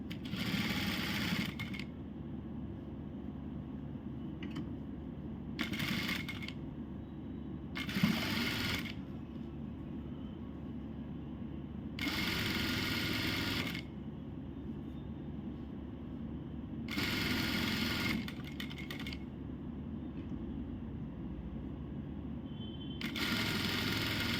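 A sewing machine stitches a zip into a skirt in several separate runs of steady whirring, each lasting a few seconds, with quiet pauses between them as the fabric is adjusted.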